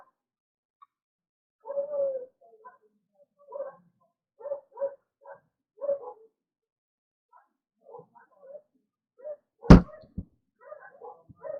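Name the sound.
dogs howling and whimpering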